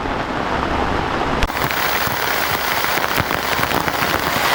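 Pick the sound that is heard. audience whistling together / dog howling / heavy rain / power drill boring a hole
heavy rain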